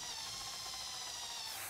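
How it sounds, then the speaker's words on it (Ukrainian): A small power drill whines steadily at a high pitch, running continuously and close by, drilling holes in a homemade fishing lure. "Свердлимо отвори"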